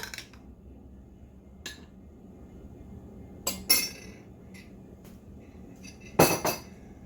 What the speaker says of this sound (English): I'm gonna give her a little stir